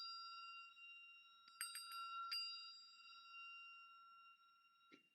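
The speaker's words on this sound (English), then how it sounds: "You see the bell?" A small bell struck by hand rings out in a clear, sustained tone that hums faintly, with a few sharp strikes briefly brightening it, all quiet and close with no talking.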